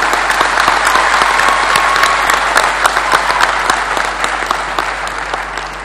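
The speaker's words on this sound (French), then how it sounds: "nous vous remercions d'abord par des acclamations nourries" Loud, sustained applause fills a ceremony hall at a political party congress closing, dense clapping with sharp individual hand claps standing out throughout, steady for six seconds and easing slightly near the end.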